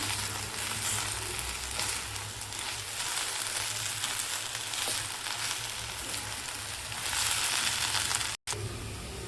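Raw banana curry being stirred in a pan with a ground peanut, chili and garlic spice mix, giving a steady close sizzle and soft scraping that runs throughout with no talking.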